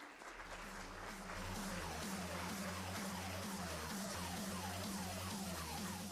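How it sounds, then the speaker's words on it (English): An audience applauds as a speaker is welcomed onto the stage at a conference, with continuous clapping over a rhythmic pulsing music track. "with a huge round of applause."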